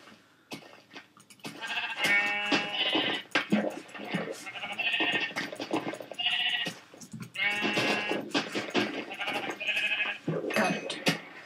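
Sheep in the Minecraft video game bleat in repeated short, nasal calls, several in close succession and then again after short pauses, mixed with clicks and game sounds.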